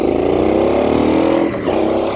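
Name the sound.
Triumph Street Scrambler 900 motorcycle accelerating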